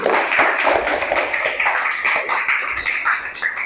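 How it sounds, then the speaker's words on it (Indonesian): A classroom full of students claps for the best group, a dense, steady patter of many hands close by that holds evenly for several seconds before thinning slightly. "Beri aplaus untuk kelompok pertama"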